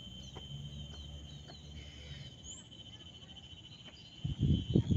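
Crickets chirp steadily in a terrace garden in Singapore, a high thin trill running throughout with faint intermittent clicks, joined near the end by brief louder rustling or handling noise.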